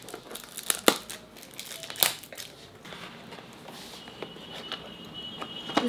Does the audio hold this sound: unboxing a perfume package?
yes